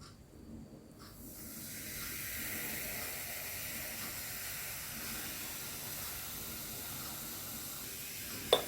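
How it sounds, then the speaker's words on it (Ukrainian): A steady, soft hiss of baking soda fizzing as it dissolves in vinegar runs continuously, close by, with a small clink near the end and no talking. "Дві чайні ложки соди розчиняємо з оцтом."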